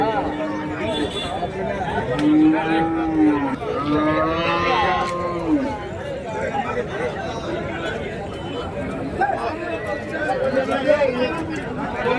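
Cattle at the Orappam livestock market in Krishnagiri district let out several long, loud moos close by, amid steady crowd chatter and someone talking.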